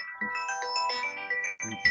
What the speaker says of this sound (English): someone's phone